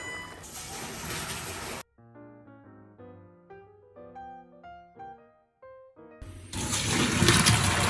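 Cooked fettuccine is rinsed under running water, heard as a loud rushing stream at the start and again at the end, with a quiet melodic music passage between the two bursts.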